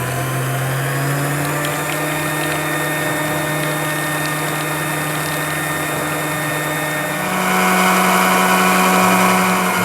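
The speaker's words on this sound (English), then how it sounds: "we want to get this on our mixer. Just start to whisk this together." A stand mixer whisks a mayonnaise base of egg, salt and Dijon mustard, its motor whirring in a loud, steady drone that rises in speed and pitch near the end.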